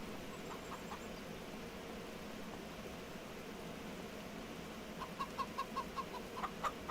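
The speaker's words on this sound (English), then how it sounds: "And then let's check on the chickens up here." Chickens in a Farming Simulator 25 coop on a hot day, a run of short clucks arriving toward the end over a steady ambient hum, fairly close.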